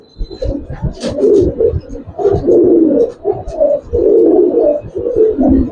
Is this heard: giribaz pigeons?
yes